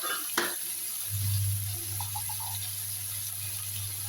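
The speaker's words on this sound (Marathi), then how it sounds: "आता यामध्ये आपण टाकूया कांदा आणि बारीक कट केलेला टोमॅटो आणि हे छान मस्तपैकी परतून घेऊया." Onion and finely chopped tomato sauté in a hot pan for vermicelli upma, with a soft, steady sizzle over a low hum and a few faint clinks near the middle.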